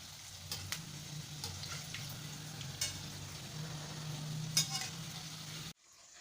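Manchurian balls fry in hot oil while being turned in the pan. There is a steady soft sizzle with occasional scraping stir sounds, close and fairly quiet, before the sound cuts off abruptly.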